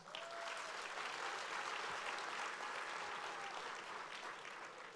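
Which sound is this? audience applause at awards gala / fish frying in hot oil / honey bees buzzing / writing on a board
audience applause at awards gala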